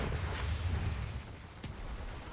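An anti-tank turret fires in the Planetside 2 video game, a heavy low boom that rolls out over the first second, followed by a sharp crack and lingering rumble.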